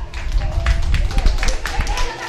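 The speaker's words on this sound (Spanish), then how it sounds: "Fuerte los aplausos, por favor, a Zacarías." Guests at a child's birthday party clap for the birthday boy Zacarías, a scattered, moderately loud applause with a voice speaking over it.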